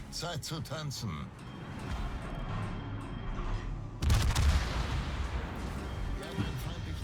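Heavy booming gunfire from large warship guns in World of Warships, a few powerful blasts with a big thump near the middle, set against continuous battle noise and chatter.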